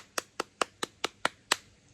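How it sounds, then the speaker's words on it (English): One person claps their hands seven times at an even, unhurried pace, each clap sharp and close, with quiet room tone between and no speech. "I'm here to give myself a round of applause"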